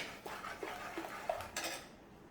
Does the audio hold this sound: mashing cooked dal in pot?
yes